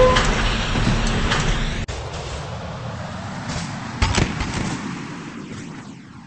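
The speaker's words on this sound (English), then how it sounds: "Stand clear of the closing doors." Subway train doors slide shut on a New York–style MTA train in the Roblox video game, ending in a sharp thud. Steady station and train noise continues afterward, with a second knock a couple of seconds later.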